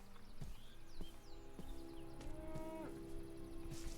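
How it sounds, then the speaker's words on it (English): Woolly cows moo in a modded Minecraft world, several drawn-out lowing calls rising and falling over faint ambient game sounds and light footsteps. "The woolly cows are my absolute favorite."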